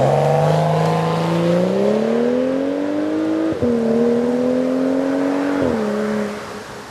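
A BMW 335i with a straight-six engine accelerates hard and steadily, its rising harmonic drone climbing through gears with two brief shift dips, loud and close with no talking.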